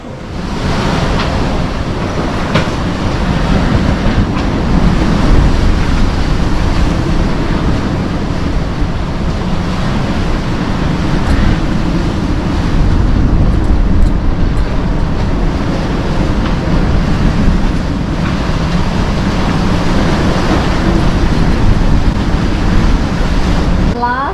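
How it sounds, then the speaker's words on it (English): Strong wind roars over a sailboat in big seas off Japan, a continuous loud rush of air and water that swells and surges throughout without pause. "We knew the winds were going to pick up, and they definitely did"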